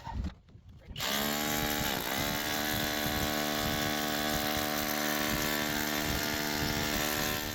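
Battery-powered hammer drill set to hammer mode grinds steadily into chrysocolla rock in an outdoor California dig, a loud, continuous buzzing rattle after a brief quieter start.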